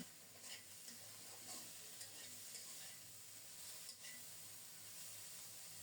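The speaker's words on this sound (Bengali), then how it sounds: "এরকম করে দাঁড়িয়ে থেকে নেড়ে চেড়ে শুটকিগুলোকে খুব সুন্দর মতো ভেজে নিয়েছি" Dried loitta fish (Bombay duck) with salt and turmeric frying in a pan, a faint steady sizzle broken by soft spatula stirs and scrapes at irregular intervals.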